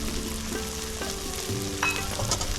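Chili spice paste with turmeric frying in oil in a pan for a kaskel fish curry, a soft steady sizzle with light stirring scrapes, fairly quiet and without talk.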